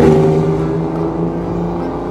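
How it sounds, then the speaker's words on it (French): A Porsche driving past on a country road in Temploux, its engine note steady and fairly loud, holding a continuous tonal drone as it goes by. "C'est un beau bruit la Porsche, hein, qu'on vient de croiser."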